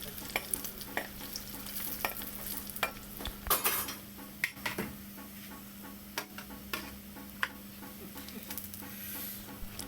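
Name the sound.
garlic and dried red chillies frying in oil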